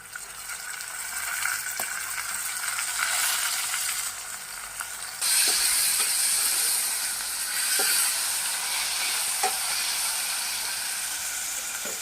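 Tomato and spices sizzle steadily in hot oil for a dalcha, a continuous bright hiss with occasional small crackles and soft clinks, close and moderately loud, with no talk.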